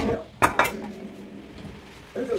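Yakisoba ingredients tossed into a pressure cooker pot, heard as a couple of sharp metallic clanks and a soft clatter, close and brief, with a voice speaking around them.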